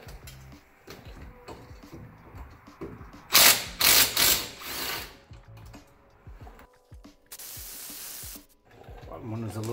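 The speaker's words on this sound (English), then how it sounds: "Just using the little mini impact again with a little swivel so that we can actually reach that." A mini impact wrench on a swivel extension removes the brake caliper bolts on a Subaru Crosstrek. Loud, close buzzing rattles come in several short bursts, and a second longer burst follows later over steady workshop clatter.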